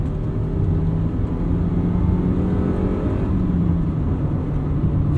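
A Honda Civic Si's 160-horsepower engine pulls hard with VTEC engaged, a loud, steady in-car drone whose pitch shifts as it climbs through the revs, with road and wind noise and no talking over it.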